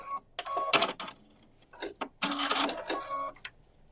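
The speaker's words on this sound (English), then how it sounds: "Do a little back stitch again, just to secure." A sewing machine back stitches through a quilt block, a few short bursts of rapid mechanical clatter with brief pauses between, close and alone.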